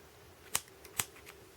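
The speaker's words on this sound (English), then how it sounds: "I'm going to cut the tail off." Scissors snip off a crochet yarn tail, two quiet close snips about half a second apart with fainter ticks after, and no talking.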